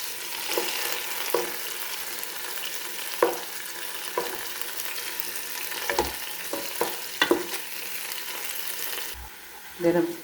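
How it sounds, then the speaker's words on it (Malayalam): Tomatoes sizzling steadily in a hot pan as they are turned, with soft scraping stirs and occasional spoon taps over a constant frying hiss. "തക്കാളി നമുക്ക് തിരിച്ചിട്ട് കൊടുക്കാം. അതിൻ്റെ നീരൊക്കെ ഉണ്ട്."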